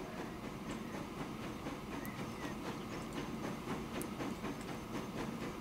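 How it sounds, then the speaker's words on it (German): A very long freight train in the Transport Fever video game rolls steadily with a soft, regular clickety-clack of wheels over rail joints, a faint and even rumble throughout. "Jetzt haben wir einen megamäßig langen Zug."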